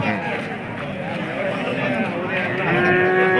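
Cattle moo amid the bustle of the Hosadurga cattle and buffalo market, a drawn-out low call rising near the end while people talk throughout.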